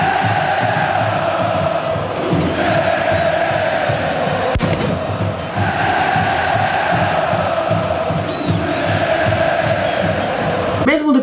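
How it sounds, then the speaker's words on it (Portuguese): A dense crowd of Cruzeiro fans at Mineirão stadium chants in a steady pulsing rhythm, loud and continuous, with a sharp bang in the middle. "Escute aí a torcida do Cruzeiro."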